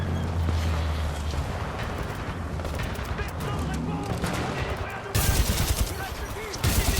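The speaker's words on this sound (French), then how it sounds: "Petite arme à énergie là." A small energy weapon firing in the video game Titanfall 2, dense rapid shots and booming battle noise running throughout, with a louder burst near the end and a voice talking under the fire.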